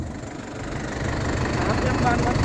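A Yanmar S75 tractor engine runs in a sugarcane field, a steady low diesel rumble that grows slightly louder, with people talking over it.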